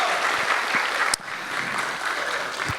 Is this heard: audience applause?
yes